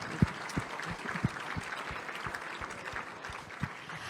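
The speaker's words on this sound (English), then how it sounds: "Will you please join me in giving her another round of applause?" An audience applauds a singer after a national anthem at a gala dinner, a soft, steady patter of clapping with a few sharper nearby claps, heard from a distance.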